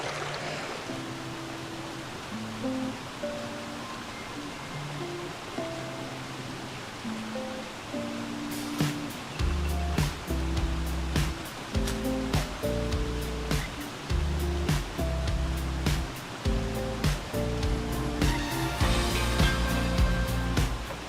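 Continuous rushing creek water flows steadily throughout on the Hunter Creek Trail, Nevada, with music playing over it and rhythmic clicks and thumps joining partway through.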